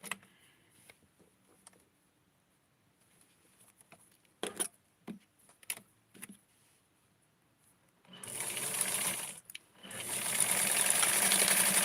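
A sewing machine stitching stretch knit fabric for a small doll dress, starting after some quiet handling clicks and taps with two close, steady whirring runs separated by a brief pause.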